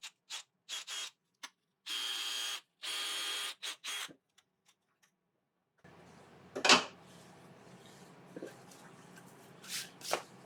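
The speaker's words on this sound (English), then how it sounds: "So now, just going to drill the 8mm hole for the worm screw." Power drill boring an 8mm hole into a yew wood blank for a woodturning worm screw, heard as several short bursts and a few longer runs of whirring, then quieter handling and rubbing noises with occasional knocks.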